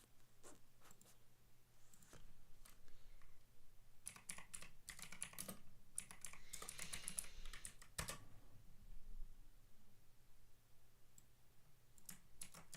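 A computer keyboard clatters with quick, irregular keystrokes, quiet and close, that come in bursts with short pauses between them. Nobody speaks.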